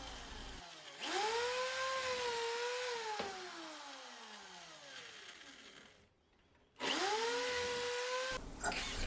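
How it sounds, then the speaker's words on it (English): A power drill bores holes into a wooden birdhouse in two close bursts, the motor whining up and sagging under load, with a short pause between runs. "Just drilling the holes now to screw the bottom on."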